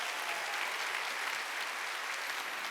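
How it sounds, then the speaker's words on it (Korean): A church congregation applauds during a Sunday worship service, a dense, continuous wash of clapping that holds steady throughout with no voices over it. "깨달았으면 박수 세게 치라고."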